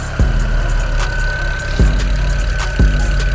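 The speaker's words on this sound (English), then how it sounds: "Dropped a lot of coolant on the belt, so I think that's what's making this sound." A BMW 335i engine idles with a steady hum and a continuous belt squeal from coolant soaked into the belt, close and loud, with sharp periodic knocks or ticks roughly every second.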